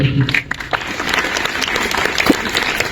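Applause from an audience at a discussion meeting in Keraniganj about a football tournament held across fifteen venues, steady clapping filling the whole moment with some crowd murmur beneath.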